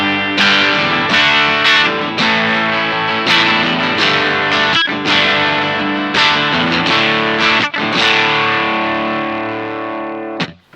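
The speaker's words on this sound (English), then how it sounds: "There's the fuzz face. The volume at about 2 with just a nice overdrive sound." Electric guitar played through a Dunlop Fuzz Face pedal with the guitar volume rolled down to about 2, giving a mild overdriven tone on strummed chords and picked notes, loud and alone.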